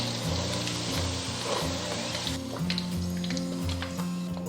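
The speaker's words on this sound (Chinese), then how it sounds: "这是中小火炸了4分钟左右" Pork pieces for guo bao rou deep-frying in oil over medium-low heat: a steady, dense sizzle and crackle that continues throughout, with a few light clinks and no speech.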